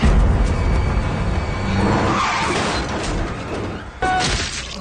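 A car strikes a person in a film scene set in 1970: dense engine and skidding noise builds, then a sharp crash-like impact lands near the end, loud and close.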